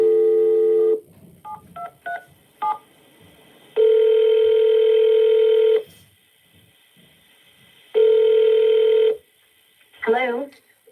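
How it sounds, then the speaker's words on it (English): A telephone is dialed with a rapid series of touch-tone beeps, followed by two long ringback tones, then a voice answers at the end. "I'm going to dial the phone to her right now, see if we can get her on the phone"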